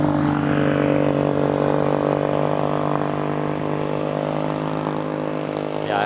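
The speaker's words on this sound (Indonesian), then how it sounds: "Biarkan motor belakang lewat dulu karena agak berisik" Steady motorcycle engine drone passing from behind, with a low rumble and harmonic whine, continuous and fairly loud throughout, with a brief rising pitch near the end.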